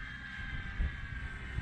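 A model Hawker Hurricane airplane's engine drones steadily in flight during a throttled turn, a constant mid-pitched whine with wind buffeting the microphone.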